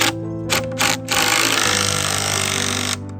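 An impact driver tightens a nut against a large plate on coach bolts bracing wooden field gate posts. It gives two short hammering bursts, then one long loud rattling run that stops near the end.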